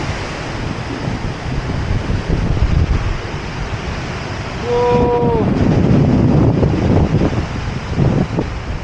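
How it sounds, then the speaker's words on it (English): Powerful ocean surf crashing at Patar, Bolinao, with heavy wind buffeting the microphone; a roaring, continuous wash that swells louder midway as a big wave hits, while a person exclaims briefly over it. "Those are powerful waves."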